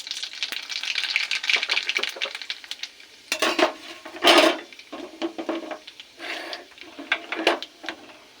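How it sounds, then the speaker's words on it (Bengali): Black cumin seeds tempering in hot oil in a pan, bursts of crackling sizzle mixed with utensil scrapes and clatters, close and intermittent, no talking. "এই তেলে দেবো কালো জিরে ফোড়ন"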